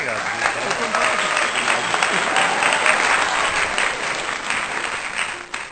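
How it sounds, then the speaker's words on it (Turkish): Loud, sustained applause fills the whole stretch as a thick wash of clapping, with faint voices mixed underneath and a brief drop near the end. "Bu alkış tamam."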